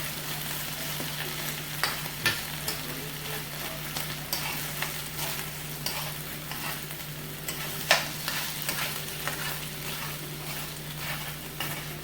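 Potatoes, mushrooms and onions fry in a pan for a Mexican-style breakfast, a steady close sizzle broken by frequent scraping stirs and occasional utensil clinks.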